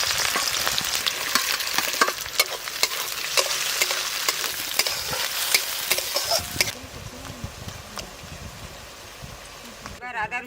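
Onion frying in hot mustard oil with black cumin, a loud, close crackling sizzle with stirring scrapes that settles into a softer hiss partway through; a voice talks briefly at the end.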